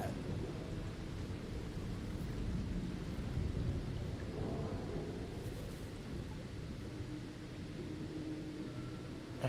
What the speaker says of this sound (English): Ooh, I hear a storm.